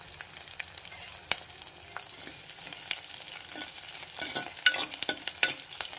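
Green chillies frying in a pan for Bombay chutney, cooked until reddish. A soft, steady sizzle carries scattered sharp crackles and occasional stirring clicks, close and moderately quiet, with no talking.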